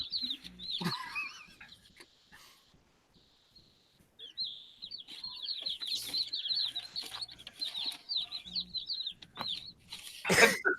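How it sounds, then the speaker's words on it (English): Birds chirp and cheep in rapid high-pitched bursts, fairly close, with a few rustling knocks and a louder squawk near the end. "The birds chirping."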